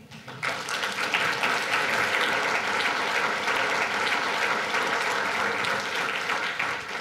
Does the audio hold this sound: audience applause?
yes